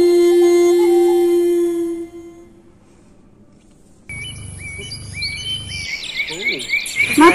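Birds chirp and twitter against a noisy outdoor background once a musical passage fades. The calls grow busier and more frequent toward the end.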